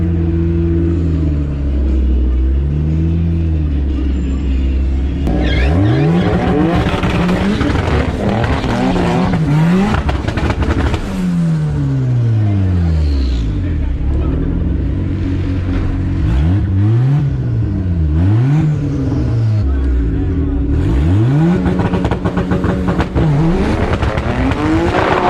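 A turbocharged Honda Civic launches down a drag strip: loud, close engine revving through rising and falling gear shifts, with turbo whine and tire noise, continuous for the whole stretch with no talk.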